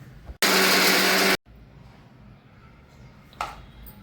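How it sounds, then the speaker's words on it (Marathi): A mixer grinder grinds coconut finely in one loud, steady, high whirring burst of about a second, then stops abruptly, leaving quiet kitchen background and a brief rattle near the end. "खोबरंही बारीक वाटून घेऊ"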